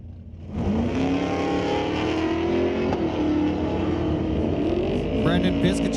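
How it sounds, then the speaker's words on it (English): Pro drag racing cars at Mission Raceway rumble loudly at idle near the line, the roar swelling and shifting in pitch as engines rev, with a brief sharper surge at the end. "First two pro cars pulling up to the line."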